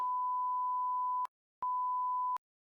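A steady electronic beep holds for over a second, stops briefly, then sounds again for a shorter stretch, clear and with no other sound.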